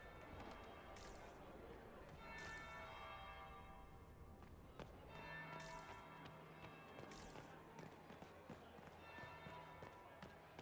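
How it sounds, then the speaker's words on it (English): A church bell tolls in the fantasy game Dragon Age Inquisition, with repeated ringing strikes over a busy, dense bed of game ambience and background music. "That would be the second bell."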